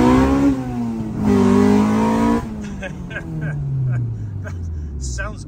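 A Honda Civic VX with a B18C Type R engine revs hard into VTEC, a loud rising howl that drops and climbs again, followed by quieter engine note and brief crackles as the car passes close by.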